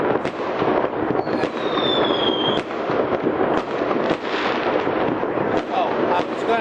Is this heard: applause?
no